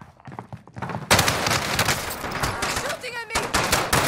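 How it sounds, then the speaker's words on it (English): Gunfire in a Rebirth video game match: sparse shots give way to a dense, loud burst of rapid automatic fire that runs nearly continuous for about two seconds. Players talk over it. "Shooting at me."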